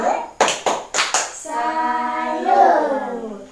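A group claps out a quick "tepuk salut" chant, with several sharp rhythmic hand claps followed by voices calling out a drawn-out word together.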